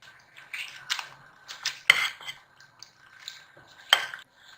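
A utensil stirs biryani masala, red chilli powder, salt, garam masala, fried onion and ginger-garlic paste in a pot, giving repeated metal clinks and scrapes at an irregular, close rhythm.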